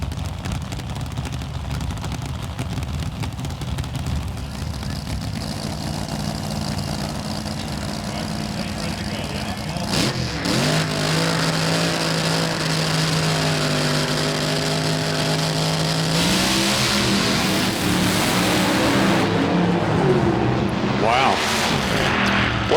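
Nitro drag racing cars at Pomona blasting down the strip, one going up in tire smoke, a sustained loud engine roar with a rising tonal whine near the end, under continuous commentary.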